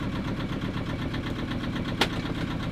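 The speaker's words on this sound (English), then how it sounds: "We wouldn't need to have this bloody motor going if there was wind" A sailboat's motor runs steadily in a low, rumbling drone with a faint rhythmic pulse, and a brief sharp click sounds near the end.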